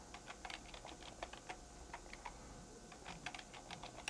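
Quick, light keystrokes on a computer keyboard as a password is typed at a dealership computer, faint and close, in short bursts with no voices.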